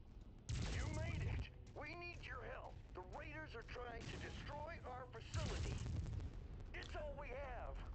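Heavy weapons fire from mechs in the modded MechWarrior 5: Mercenaries video game, two bursts of rumbling blasts mixed with game sounds and someone talking over them.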